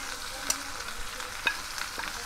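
Onion, ginger paste and ground spices frying in a pan for a Kawoi fish curry, a soft constant sizzle with a few sharp clinks of a spoon stirring.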